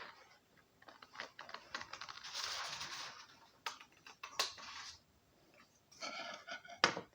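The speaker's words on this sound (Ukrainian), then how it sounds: "я обережно вирізаю шаблони." Scissors snip through folded paper while cutting tulip flower templates, quiet close crisp cuts and rustles coming in short irregular bursts.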